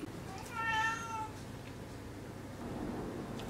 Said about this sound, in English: Please mind my cat.